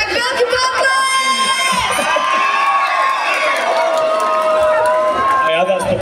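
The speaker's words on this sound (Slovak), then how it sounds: "Tak veľký potlesk!" A crowd at a Roma festival in Chomutov claps and cheers loudly and steadily, with shouts and whoops on top and a held musical tone running under the noise.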